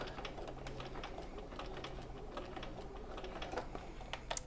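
A sewing machine runs in soft, continuous stitching bursts while sewing a zipper pocket, quiet and close with faint clicks.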